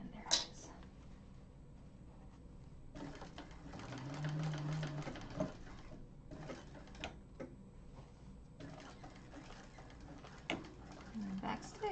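A sewing machine stitches a leather-style satchel in bursts of quick ticking runs separated by short pauses. Quiet room sounds and a soft voice come in between the stitching.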